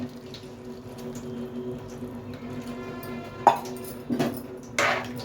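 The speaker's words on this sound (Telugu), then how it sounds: "ఇప్పుడు మనం ఇందులో వాటర్ వేసుకుందాం" Water left from boiling gongura (sorrel leaves) runs and splashes into a pot of gongura chicken, a soft steady flow with a few louder sloshes toward the end.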